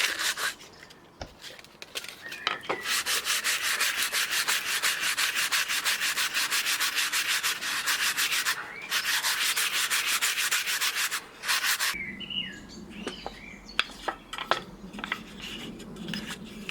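Sandpaper rubs wood on a handmade disc assembly fitted over a broomstick shaft, a steady close scratching that runs for several seconds, pauses briefly, and ends in lighter scattered scrapes and knocks.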